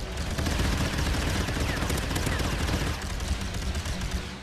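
Dense, continuous gunfire in a Star Wars mod of the shooter game The Contractors, rapid overlapping shots with no pauses, loud and sustained throughout, with occasional speech-like sound mixed in.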